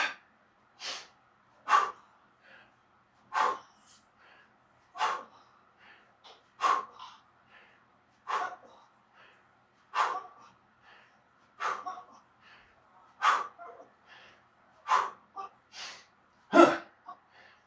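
Sharp, rhythmic exercise breaths during kettlebell swings with a braced belly and hip drive, a steady series of forceful exhales and inhales at roughly one-second intervals, close and loud with no other sound.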